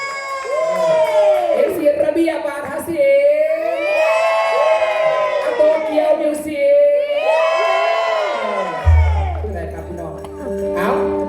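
Yuki fan club crowd cheering at a live Thai fan event, a loud waving chorus of high-pitched shouts and whoops from many voices, rising and falling in bursts, with a voice amplified over it.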